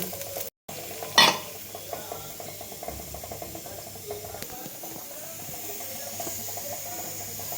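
Mustard seeds and cumin are stirred in hot oil, giving a low sizzle with scraping and clicking from the utensil. A sharp knock comes near the start, then the stirring keeps a loose rhythm.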